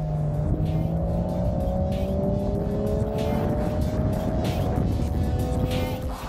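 A Mercedes-AMG E53 accelerates hard in a drag race, its engine note climbing steadily through rising, droning revs, loud and sustained throughout with gusts of wind noise over it.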